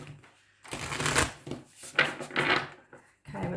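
A deck of somewhat stiff, rigid oracle cards is shuffled up close in a run of dry, papery riffling bursts with brief pauses between them, with no talking.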